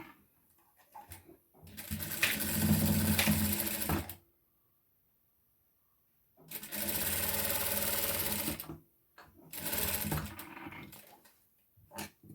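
A sewing machine stitches a saree blouse, running in three steady bursts of close, even whirring separated by pauses, with no talking.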